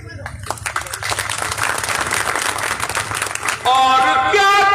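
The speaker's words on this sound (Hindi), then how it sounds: "ताली बजाइए, नज़्म मुकम्मल हुई।" An audience at a mushaira in Deora Bandhauli, Darbhanga, Bihar applauds after a poem. Dense clapping rolls on for several seconds, mixed with a speaking voice, then gives way to a louder, sustained tonal voice near the end.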